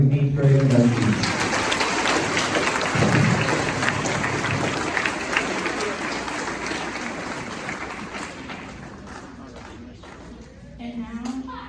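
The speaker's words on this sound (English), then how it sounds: "a round of applause for our new 8th grade inductees" Audience applause for newly inducted eighth-grade members at a middle school National Junior Honor Society ceremony, steady broadband clapping filling the room for about ten seconds before fading, then a brief resurgence at the end.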